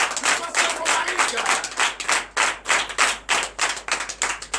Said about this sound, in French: Donc je vous demande d'applaudir très fort le pasteur Romaric